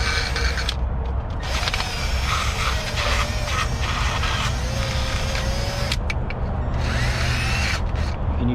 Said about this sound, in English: I'm going to wire wheel all this area here.